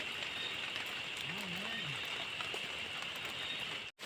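Steady rain patters outdoors beside floodwater where fishing lines are set, a continuous wash of drops running the whole time, with a brief low tonal sweep in the middle and an abrupt cut near the end.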